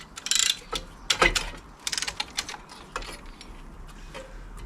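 Brake caliper wind-back tool ratcheting on a BMW 1 Series during a brake job, a close series of sharp metallic clicks in quick bursts.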